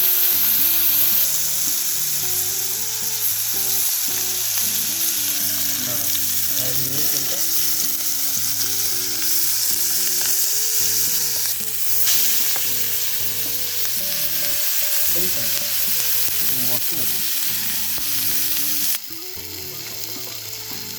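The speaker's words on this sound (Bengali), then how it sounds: "এই মাছটা এবার এই গরম তেলে তাওয়ায় দিয়ে দিলাম।" A whole fish coated in spice paste fries in hot oil on a tawa over a medium-low gas flame, giving a loud, continuous sizzle that fills the clip with no talking.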